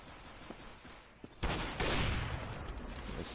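Gunfire in Counter-Strike GO: a sudden burst of shots opens into a dense, loud volley with a second surge, after a quieter stretch with a few faint clicks and footsteps.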